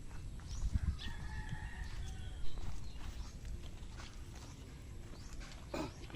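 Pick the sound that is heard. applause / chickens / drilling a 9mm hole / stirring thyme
chickens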